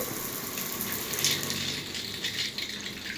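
Water runs steadily from an outdoor shower fixture with a pressurizing valve, a continuous close hiss and splash with no talking.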